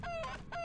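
Chickens cluck in the TechnoMage: Return of Eternity video game, two clear bright clucking calls close up with no talk.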